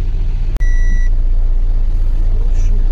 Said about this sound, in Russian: Прогреваю машину пока.